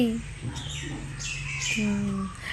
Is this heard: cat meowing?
no